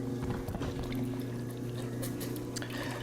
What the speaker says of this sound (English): center this mass of clay on this sort of spinning wheel head